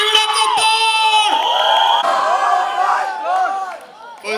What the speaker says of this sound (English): Everyone, give it up for Poor.